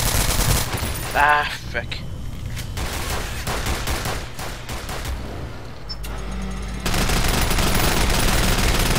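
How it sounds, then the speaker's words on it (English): Machine gun fire in the shooter game Nuclear Dawn, rapid loud bursts of gunfire with scattered shots and explosions, someone briefly speaking over the battle noise. "I just wanted to reload my machine gun."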